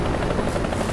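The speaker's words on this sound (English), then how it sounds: "When you're in a Radkampfwagen and you see a helicopter, you better fucking stay out of his way" A helicopter in War Thunder, its rotor making a steady, loud buzzing drone that fills the whole short moment with no other sounds.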